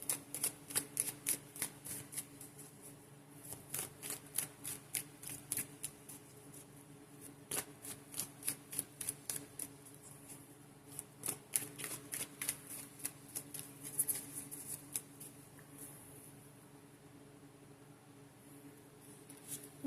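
Tarot cards are shuffled close up in a quiet room, a long run of crisp, rapid riffling flicks in bursts that thin out toward the end.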